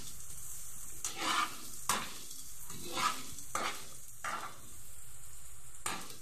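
Onion and garlic sautéing in a pan for chicken tinola, a steady hiss of frying broken by several scraping stirs every second or so, close and moderately loud with no talk.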